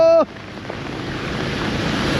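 Water waves splash and rush in close to the microphone on the road to Budhanilkantha, a broad steady wash with wind buffeting that follows a brief voice at the start.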